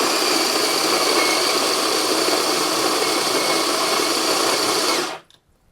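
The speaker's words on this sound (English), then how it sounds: "I actually just grind the coffee right into this basket" An electric burr or blade grinder grinds coffee beans fine for espresso, straight into the portafilter basket, a loud steady whirring drone that holds for about five seconds and then cuts off abruptly.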